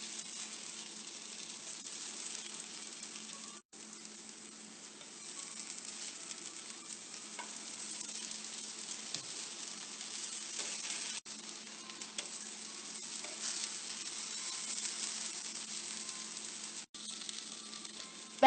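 Eggplant slices sizzle steadily in hot oil in a frying pan, a soft continuous crackle with occasional small pops, close and alone.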